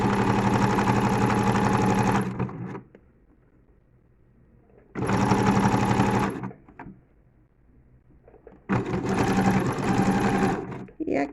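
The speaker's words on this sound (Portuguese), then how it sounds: "para que a costura seja feita da forma correta" A sewing machine stitches a hem onto a face towel in three loud, rapid bursts of a few seconds each, separated by quiet pauses.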